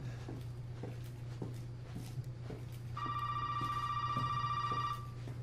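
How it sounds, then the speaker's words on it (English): A telephone rings in the video game Resident Evil 7, a steady electronic tone entering midway over a low ambient hum and faint rhythmic thuds. "A ringing phone must be answered"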